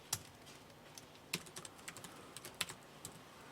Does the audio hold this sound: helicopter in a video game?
no